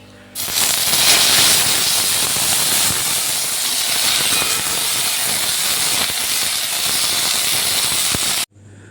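Soaked dried jujubes tipped into hot oil with fried spice tempering set off a loud, steady sizzle and hiss that starts abruptly and holds evenly for about eight seconds before cutting off.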